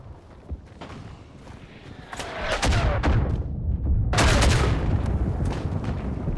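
Rifle gunfire in the World War I shooter game Isonzo on the Marmolada mountain map, with sharp repeated shots and booming reports echoing, growing louder and denser over a rumbling battlefield backdrop.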